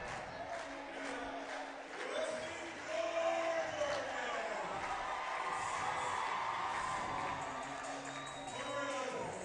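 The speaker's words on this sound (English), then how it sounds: "Crowd's already into it." A crowd at a high school boys' basketball game, Oak Park hosting Staley, roars and cheers with whoops and shouts in a steady, dense wash of noise, loud throughout with voices mixed in.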